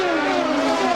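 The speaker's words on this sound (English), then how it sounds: "You could hear the revs as he tried to keep it up" An Indy race car running on methanol revs hard as it pulls away from pit road at the 2003 Indianapolis 500, a loud, sustained engine note that rises slightly in pitch over one second.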